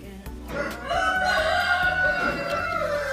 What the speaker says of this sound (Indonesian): suara ayam.